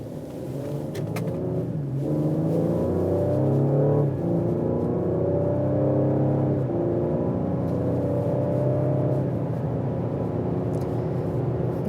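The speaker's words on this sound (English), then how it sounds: "I don't mind the induction noise. Yes, it's fake, but it adds to the driving experience" A 2020 Ford Explorer ST accelerates hard through its gears, its artificial induction sound rising in loud whirring, revving tones that climb, drop at each shift, then climb again, heard from inside the cabin.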